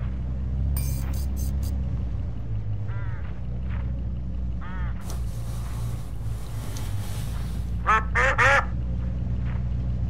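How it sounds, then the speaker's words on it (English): Harsh bird calls from crows along a road in the game Hitchhiker, a few short cawing bursts scattered across a steady low rumble, with a louder cluster near the end. "Crows all along this road."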